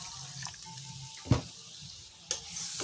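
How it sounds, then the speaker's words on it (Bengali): Water is poured into a pan of bitter gourd (kakrol) pieces with salt, a brief splashing gush with a couple of sharp clinks and a soft hiss of cooking in the background. "এর মধ্যে একটু জল এড করে দিয়ে দিচ্ছি"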